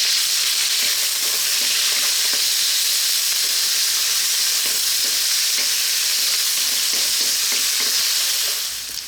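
Thin slices of pork frying in oil for pork fried rice, a loud, dense, continuous sizzle and hiss with faint stirring taps underneath, close up and without talking.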